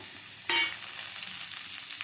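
Steady crackling sizzle of boiled elephant foot yam frying in hot oil, with a sharp burst at the start as pieces hit the pan, continuing close and even.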